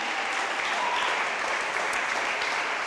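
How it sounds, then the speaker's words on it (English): A festival award-ceremony audience applauds a young honoree at an international film festival, a broad, even wash of clapping from many hands, steady and somewhat distant, with no talk over it. "Please, a big round of applause for Nils Jakob England."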